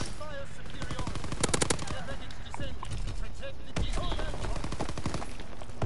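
Rapid PPSh submachine gun fire in a World War II video game, dense sustained bursts of automatic shots layered with other gunfire and explosions throughout, loud and continuous.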